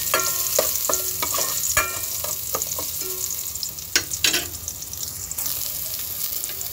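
Garlic sautés in a pan for ginisang mongo, a continuous close hiss of frying with spoon taps and scrapes against the pan scattered throughout.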